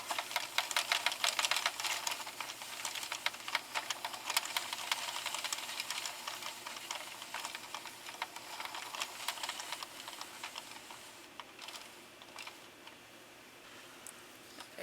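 A Sentro knitting machine cranks continuously while casting off, making a rapid, steady clicking and ticking that runs unbroken for the whole stretch and fades slightly toward the end, close by and with no talking.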